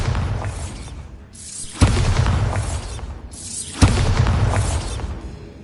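Bombarda spell blasts in the Hogwarts Legacy game: two loud, sharp explosive booms about two seconds apart, each trailing into a broad roaring, crackling wash.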